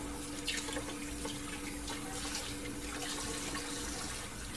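A kitchen tap runs steadily into a sink while a small pan is washed, a continuous close splashing stream with faint drips and no talk.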